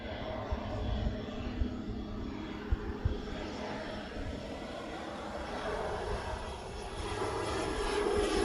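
A Southern Airways aircraft passes at Honolulu airport with a continuous, moderately distant engine rumble and drone that swells slightly toward the end, accompanied by a few faint knocks in the background.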